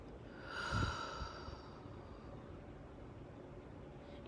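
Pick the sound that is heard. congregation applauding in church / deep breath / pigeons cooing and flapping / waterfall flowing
deep breath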